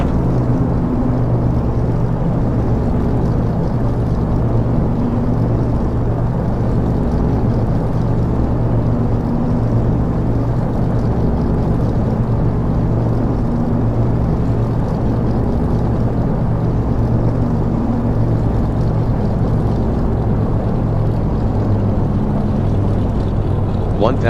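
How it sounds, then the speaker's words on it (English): A Douglas DC-3's right engine runs in the X-Plane 11 flight simulator, a loud, steady low piston drone and rumble that continues without a break, with no voices. "Right engine starter. Keep your fingers crossed. Press. Right engine RPM."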